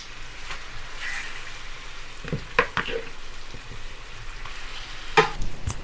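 Crushed pimento berries sizzle in a pan for Caribbean-style cooking, a steady close frying hiss broken by a few sharper pops and crackles.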